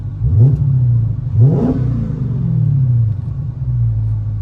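A Dodge Hellcat engine revs twice in quick succession, each a rising, throaty blip, then settles into a loud, steady, deep rumble close by.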